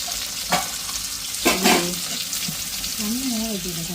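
Onion, green chili and curry leaves frying with whole spices in oil for a meat curry, a steady close sizzle with a few stirring knocks and scrapes of a utensil.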